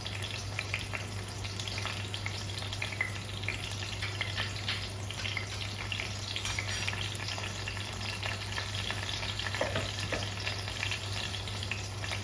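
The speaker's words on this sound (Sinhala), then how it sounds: "දැන් මේ ටික පොඩ්ඩක් අපි බැදෙන්න දෙමු" Rampe (pandan leaves) fry in oil for seeni sambola, giving a steady, soft sizzle with light crackles and occasional stirring, fairly quiet and unbroken, with no talk.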